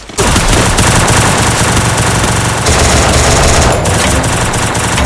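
Loud, relentless automatic gunfire from the game Free Fire hammers out in rapid bursts that fill nearly the whole stretch, with only a brief pause midway before the shooting resumes.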